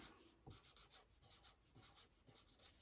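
Pen strokes writing by hand on paper, faint and close, a quick series of scratchy strokes in short bursts.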